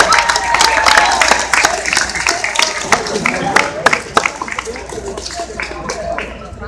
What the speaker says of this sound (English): give these two young girls a big round of applause